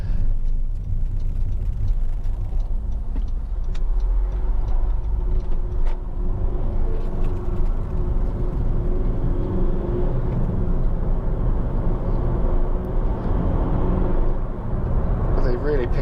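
A Honda Civic 2.2 i-DTEC EX five-door diesel accelerating on the road, its engine a steady low rumble and whir heard from inside the cabin, with a person talking over it.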